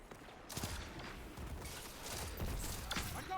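Gunfire in the video game Destiny: a few sharp shots and bursts crack out over a rumbling game background, fairly close and loud for a few seconds.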